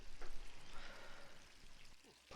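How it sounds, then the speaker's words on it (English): A faucet left running in Resident Evil 3 Remake gives a steady, close rush of water that fills the whole moment without pause. "she can't even turn the faucet off."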